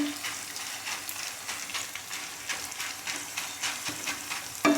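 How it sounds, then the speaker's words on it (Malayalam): Jackfruit being stirred in a pan for chakka varattu, with a steady frying sizzle and scraping strokes repeating through the clip, close and moderately loud, with no talk. "നമ്മളപ്പം നന്നായിട്ടൊരു ഇളക്കി കൊടുക്കുവാണ്"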